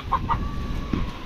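A chicken clucks twice in quick succession, close by on a Filipino farm, then softer fowl noises follow in a quiet outdoor setting.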